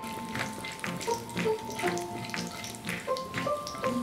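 Chana dal frying in hot oil in a pan, a steady close sizzle with soft crackles and faint clinks, no talking.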